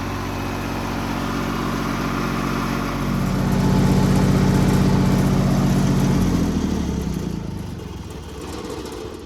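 An old Perkins engine on a classic Lincoln welder idles with a loud, steady low rumble. It swells into a heavier, deeper run through the middle, then settles back down, with no voices.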